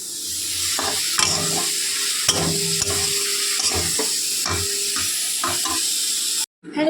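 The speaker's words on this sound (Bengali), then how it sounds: "সেখানে আমি চিকেনটা ভেজে নিচ্ছি প্রথমে" Chicken pieces fry for momo filling, a steady close sizzle broken by scraping stir strokes and spatula taps against the pan, continuous until a brief cutoff near the end.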